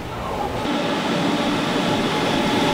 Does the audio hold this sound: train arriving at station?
yes